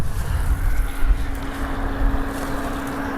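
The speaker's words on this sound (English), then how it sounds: "that guy really liked his muffler. Actually, that was a Corvette." A Corvette with a loud muffler passes outdoors, heard as a deep, rumbling, steady low exhaust drone mixed with wind buffeting on the microphone, no talking.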